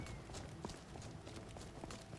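Horse hooves clip-clop in Skyrim, a run of faint, quick, irregular thuds under a noisy background, with no voices in the short stretch.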